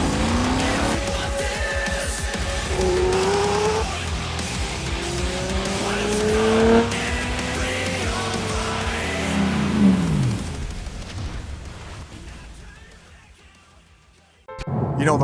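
A 2014 Mercedes-Benz SLS Black car pulling away and accelerating, with loud rising engine revs through several gear changes and tire noise, fading into the distance before a sudden loud noise at the end.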